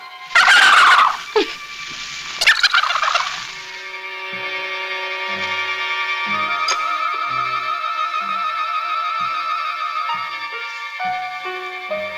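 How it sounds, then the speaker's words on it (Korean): A rooster crows in a 1971 Korean film, with two loud, ragged bursts near the start, followed by sustained, steady musical tones and soft plucked notes. "아침잠은 수탉 소리에 깨고요"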